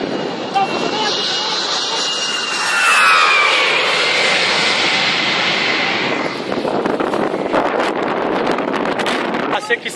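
UN airplane on an airstrip in Kidal with its engine droning loudly under heavy wind buffeting, swelling around the middle and then continuing with gusty noise while people talk nearby.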